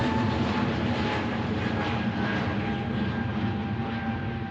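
Close jet aircraft at Manchester Airport, a loud steady engine roar with a thin whine held constant throughout and no voices.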